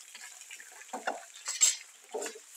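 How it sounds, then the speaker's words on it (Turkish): Chopped onions and peppers dropped into a hot pan, giving a faint sizzle with a few short bursts of clatter and stirring as the vegetables land and are shaken. "Şimdi bu doğramış olduğumuz bütün sebzelerimizi, soğanı, biberi aynı anda üzerlerine atıyoruz."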